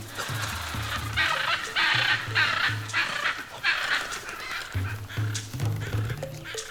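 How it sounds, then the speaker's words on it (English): A pair of hyacinth macaws, the largest parrots, call in Brazil's Pantanal with loud, harsh, honking squawks repeated in bursts, close and prominent. "One of the most beautiful birds in the world, the hyacinth macaw."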